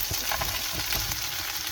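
Drained chicken feet sauté in a pan with garlic, giving a brief, steady close-up sizzle with faint stirring.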